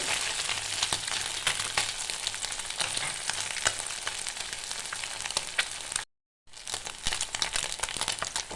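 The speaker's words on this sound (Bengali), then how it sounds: "মাছগুলো আমার ভাজা হয়ে গেছে এবার আমি তুলে নিচ্ছি" Small puti fish fry in oil with a loud, close sizzle and crackle, sharp pops scattered through it and a brief silent gap near the end; no voices.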